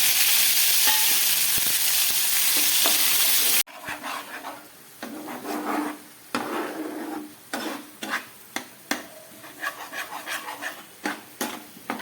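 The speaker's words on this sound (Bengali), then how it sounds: "পেঁয়াজটাকে একটু ভেজে নিলাম।" Onion paste fries in oil in a pan, opening with a loud, steady hiss that drops to a softer sizzle under repeated close scraping and clinking from a spoon, with no talk.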